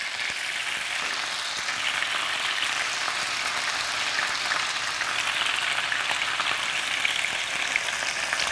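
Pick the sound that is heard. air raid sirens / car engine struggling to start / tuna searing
tuna searing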